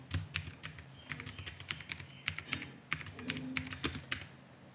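Rapid, uneven keystrokes on a computer keyboard as a scan name is typed into the Nessus vulnerability scanner, a close, clicky stream of taps with brief pauses and no speech.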